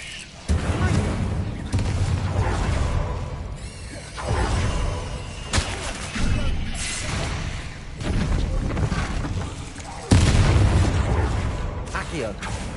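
Spells in the Hogwarts video game, with Incendio fire blasts: heavy booming bursts and crackling impacts roll out in several waves, with game voices and effects in between.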